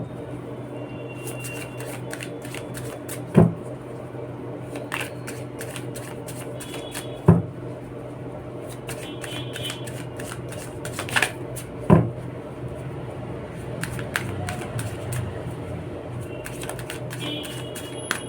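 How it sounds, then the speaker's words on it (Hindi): Tarot cards are shuffled by hand with a soft, steady papery riffle and rustle, plus a few sharp taps at intervals as the deck is squared, close and moderately loud, with no talking. "अभी थोड़ा सा इसको मैं शफल कर लेते हैं"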